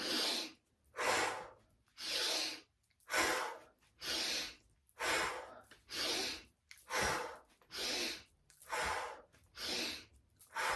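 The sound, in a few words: pranayama breathing exercise, breathing in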